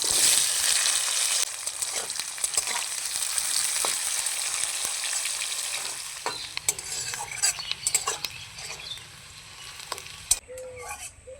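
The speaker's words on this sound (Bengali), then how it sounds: "নাড়াচাড়া করে এখন দিয়ে দিব পেঁয়াজ কুচি।" Chopped onions hit hot oil with whole cumin seeds in a pan for a mutton curry, giving a bright, steady sizzle that later thins into crackling as a utensil stirs and scrapes the pan.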